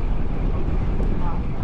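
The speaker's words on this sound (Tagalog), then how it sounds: "sobrang lakas ng hangin eh." Strong wind roars steadily across the microphone during a long bike ride, a loud continuous low rumble that buffets the sound throughout with no pauses.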